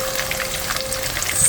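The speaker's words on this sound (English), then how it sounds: "Sizzling so much" Zucchini and corn fritters sizzle in hot fat in a pan, a constant loud crackling hiss with small pops, heard close and alone.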